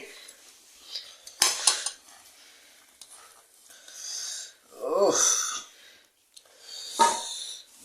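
Cutlery and dishes clink and scrape at a home table as a husband serves himself rice, coming in short scattered bursts with soft breaths and a few quiet pauses between them.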